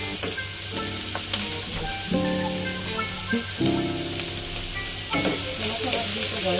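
Cabbage and shrimp stir-frying in a hot pan for pancit canton, a loud, steady, close sizzle with intermittent scraping and clinking of a utensil against the pan.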